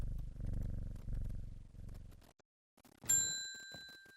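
A cat purrs as it is petted in the video game Strange Horticulture, a low rumbling purr that runs for about two seconds, then falls silent before a bright chiming ding rings out.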